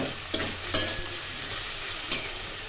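Thinly sliced potatoes, eggplant, broad beans and long beans fry in hot oil tempered with five-spice seeds, a continuous close sizzle broken by three sharp utensil clinks, with no talking.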